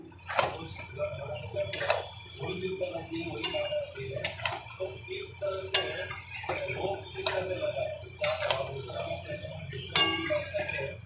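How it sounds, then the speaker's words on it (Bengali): Vegetables with salt and turmeric stirred in a pan, a utensil clinking sharply against the metal at regular intervals, fairly quiet, with a low background hum between strokes. "লবণ আর হলুদ দিয়ে দিলাম দিয়ে একটু নেড়ে দিই"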